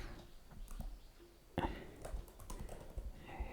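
Quiet keystrokes on a computer keyboard while C# code is entered, irregular clusters of soft taps with one sharper, louder press partway through, close and alone.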